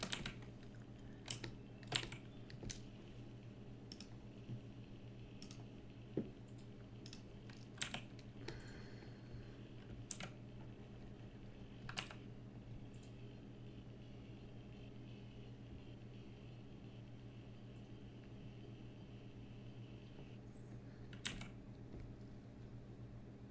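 Typing on a cheap computer keyboard, with scattered keystrokes and small bursts of clicks over a steady low hum, fairly close and clear, with no voices.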